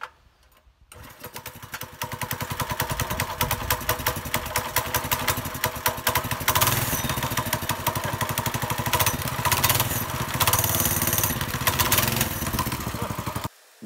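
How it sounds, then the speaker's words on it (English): Small Chinese-made engine of a motorised kids' car pulls into life after a second of quiet, then runs steadily with a fast, rattly putter, close and loud, lasting to the end with no talk. "The engine really started straight away."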